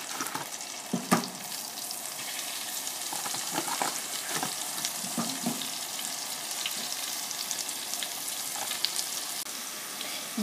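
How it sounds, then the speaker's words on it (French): Hake fillets cooking in butter in a frying pan, a continuous bright sizzle with scattered pops and crackles, close and even throughout, with no voices. "Il ne me reste plus qu'à cuire mes filets de colin dans une poêle avec le restant de beurre, 5 minutes de chaque côté."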